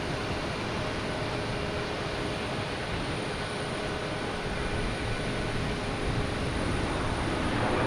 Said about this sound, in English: next coming in is a Delta coming in from Nolans. Louis Armstrong International Airport. 737-800.